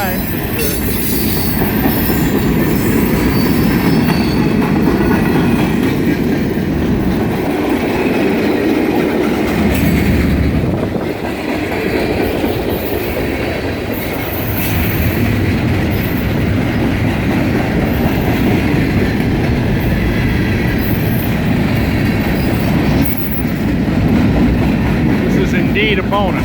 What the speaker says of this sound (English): I doubt if you can hear me over the train wheels.